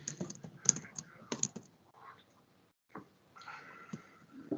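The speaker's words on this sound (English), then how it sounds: "I come over here and start typing Miriam's name" Rapid keystrokes as a name is typed on a computer keyboard, close and crisp, in short bursts separated by a brief pause, with a faint voice near the end.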